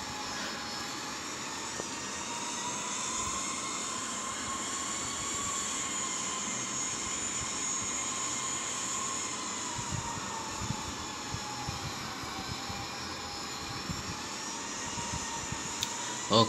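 Jet engines of an American 787-9 drone steadily on landing approach in the Infinite Flight simulator game, a high whine and low rumble, a continuous even hum with a few faint clicks near the end.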